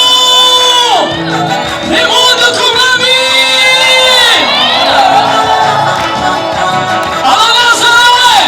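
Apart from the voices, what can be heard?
congregation applauding and cheering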